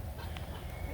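Chickens perching outdoors in the rain give faint, brief clucks beneath a dense, steady hiss of rainfall.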